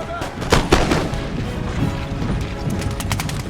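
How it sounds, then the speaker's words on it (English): Volleys of musket fire crackle and boom through a large Empire: Total War battle between French and British forces and Dutch and Native troops, several sharp bursts layered over continuous battlefield din, with faint talk underneath. "the Dutch start opening fire"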